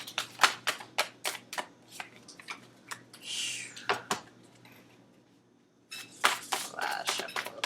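Tarot cards being shuffled by hand, with repeated crisp riffling bursts in quick succession, a pause with a softer rustle, then another flurry of shuffles, close and fairly quiet.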